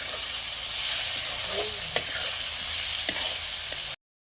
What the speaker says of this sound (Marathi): आता आपण यामध्ये थोडंसं शेंगदाण्याचं कूट टाकणार आहोत आणि चांगलं परतून घेणार आहोत